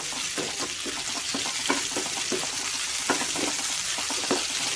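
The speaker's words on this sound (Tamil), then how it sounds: "முந்திரி திராட்சையும் நம்மளுக்கு பார்த்தீங்கன்னா நல்லா வறுத்தாச்சு." Cashews and raisins fry in a pan for milk kesari, a steady close sizzling hiss broken by regular scraping stirs, roughly one per second, with no voices.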